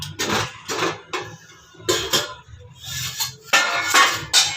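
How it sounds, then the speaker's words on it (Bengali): A lid comes off a pot of jackfruit and shrimp curry in a run of loud, close metallic clanks and rattles separated by short pauses. "এবার কিছুক্ষণ পরে ঢাকাটা খুলছি"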